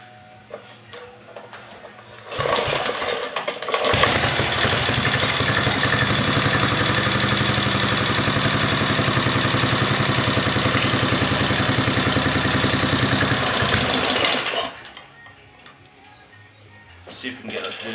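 Briggs engine on a tractor kart, choke on, cranks and fires into a loud, steady, buzzy run lasting about twelve seconds before cutting back, with brief talk before and after.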